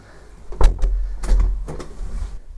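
The front door of a house swings shut with a solid thud, followed by a second heavy knock and a rattle as it settles, close and fairly loud.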